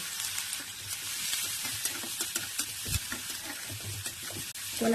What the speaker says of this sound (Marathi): जिरं चांगलं चटकल्यावर त्याच्यात कांदा टाकायचे